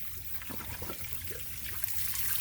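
Water draining from a Cyclone pool filter during winterizing of pool equipment, a steady close trickle and gurgle that runs unbroken and alone.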